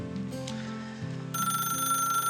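An electronic telephone ringtone at home, first as a lower warbling tone, then from mid-clip as a louder, brighter repeating ring with steady sustained notes, close and fairly loud, with no one speaking.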